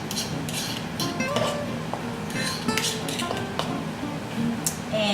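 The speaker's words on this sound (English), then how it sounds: "And I'm going to mix those ingredients all together with a fork" Fork clinks and scrapes against a bowl while beaten eggs and melted vegan butter are mixed for a derby pie, a steady run of small metallic taps and stirring sounds, fairly close, with no talking.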